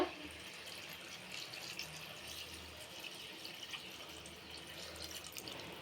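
Water pours into a pot of cooking goat head curry, a steady running splash with light dripping, fairly quiet and continuous, with no talk.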